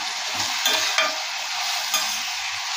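Cauliflower, carrot and other vegetables stir-fried in a pan, a bright continuous sizzle with several scraping strokes of the spatula and a few light clanks, close and fairly loud.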